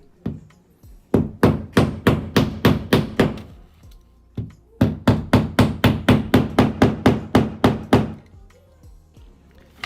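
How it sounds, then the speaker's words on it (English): A hammer taps a drywall anchor flush with the wall: two quick runs of a dozen or so sharp, evenly spaced knocks separated by a short pause, close and loud with no talking. "Sometimes you will have to hit it with a hammer just to make it flush with the drywall"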